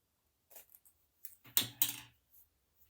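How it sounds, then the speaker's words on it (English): Scissors snipping through fabric in a slow-stitching textile craft session: a few quiet, isolated clicks followed by two sharper close cuts, with near silence between them. "Maybe I'll cut it in half."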